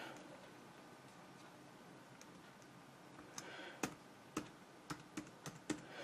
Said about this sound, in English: let me put in the password